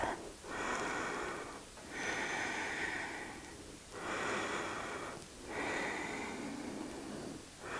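Close, audible breathing in a gentle Hatha yoga class: four or five long airy breath cycles in a steady rhythm, each rising and fading with brief quiet gaps, soft and unaccompanied.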